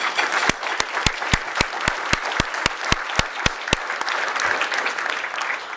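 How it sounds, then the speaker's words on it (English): Business-lunch audience applauding the Simon Fraser University president: a thick, sustained round of clapping with a few sharp, evenly spaced louder claps standing out near the front through the first part. "Let's give him a great round of applause"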